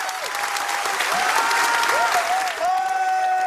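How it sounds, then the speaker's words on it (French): A large audience applauds at length after a standing ovation at a Shigeru Miyamoto masterclass, a dense steady roar of clapping with faint voices and whistling-like tones threaded through it and a brief dip near the end. "très longs applaudissements."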